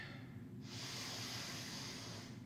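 One long, deep breath drawn in through the nose during a low yoga lunge, a close, airy hiss that swells and holds for about two seconds over soft background hum.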